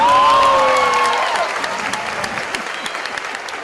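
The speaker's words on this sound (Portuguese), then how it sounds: "agora, pessoal, uma salva de palmas pro churrasqueiro que fez isso" A round of applause in an animated joke, a dense crowd clapping loudly from the start and slowly thinning toward the end, with a whistling tone sliding over the first second.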